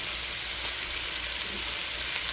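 Red pepper and onions sizzle in a hot pan with fajita meat, a dense, even frying hiss holding steady and close for a couple of seconds with no voices.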